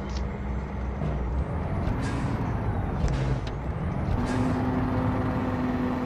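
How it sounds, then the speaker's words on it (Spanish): Truck engine brake in American Truck Simulator, a loud, steady low roar and rumble that holds throughout, with a faint tonal drone and occasional hiss. "Freno de motor, freno de motor."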